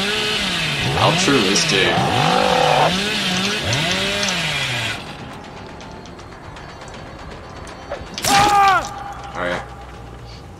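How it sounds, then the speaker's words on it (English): The Hillbilly's chainsaw revving in Dead by Daylight, a rising and falling motor whine for several seconds, loud and close, followed by sharper bursts with a voice talking briefly over the game sound. "so for my power, I have a chainsaw that one-shot downs people"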